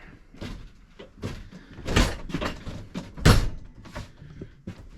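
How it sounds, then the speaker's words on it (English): An RV camper door opens with a few thunks and latch clicks in a quiet interior, moderately close, with small handling knocks between. "So when you walk through the door,"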